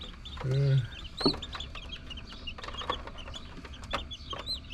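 Thirteen newly hatched chicken chicks from home-incubated eggs peep in quick, high, repeated chirps, with a lower cluck-like call near the start and a brief thump just after.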